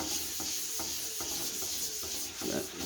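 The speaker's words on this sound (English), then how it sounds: "So I'm just going to take an old paper towel." Rhythmic rubbing strokes, roughly one every second, as a paper towel wipes stain back and forth across a sanded wooden speaker cabinet, close and moderately loud.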